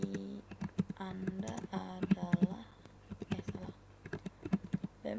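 Keys on a computer keyboard clatter in quick irregular bursts while a person talks over them, the clicks faint and close.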